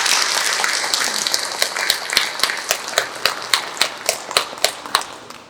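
Audience clapping welcomes a pastor at a church gathering, starting as dense applause that thins into a slow, rhythmic unison clap with sharp, evenly spaced hits near and loud.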